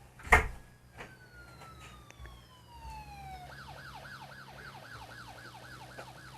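A police siren in the motorcycle racing game Racing Fever: Moto starts with a rising sweep, then settles into a rapid repeating wail, heard faintly against a low engine hum.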